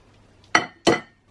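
A spatula scrapes around a mixing bowl of cookie dough in two short, close, rasping strokes separated by a brief pause, with quiet room tone before and after.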